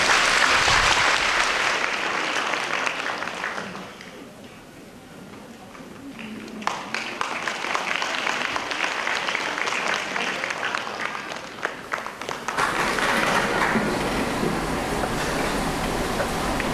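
Concert audience applauding at a Dream of the Red Chamber music concert, loud dense clapping that dips briefly mid-way and then swells again, continuing for many seconds.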